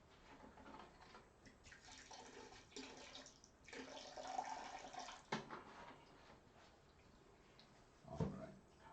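Water poured into thinned clay slips, a soft continuous splashing and trickling at moderate volume with small clinks and a brief louder knock near the end, no voices.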